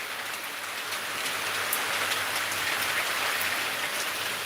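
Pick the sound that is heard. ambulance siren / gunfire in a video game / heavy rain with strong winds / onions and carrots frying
heavy rain with strong winds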